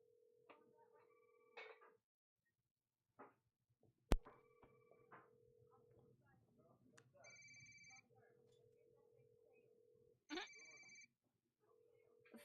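A phone ringing on an incoming call in a video game, repeated electronic ring tones in short bursts separated by quiet gaps, faint, with a few soft clicks and low background hum.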